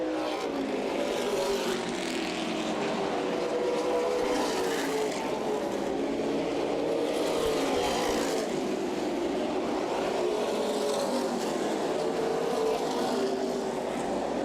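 Stock cars racing at Berlin Raceway, a steady roar of engines droning and swelling as the pack circles the track, loud and continuous throughout.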